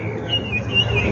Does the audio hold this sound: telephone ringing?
no